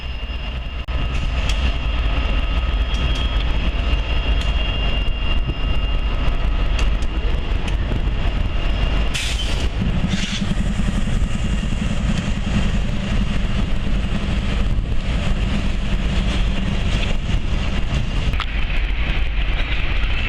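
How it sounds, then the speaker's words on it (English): A Norfolk Southern EMD SD60M diesel locomotive rumbles past at Coffey's Cliff near Chattanooga, a steady, loud, continuous low engine drone with rail noise and a brief sharp burst midway, no voices. "This is one of 10 EMD SD60Ms that NS picked up on the tail end of a Union Pacific order."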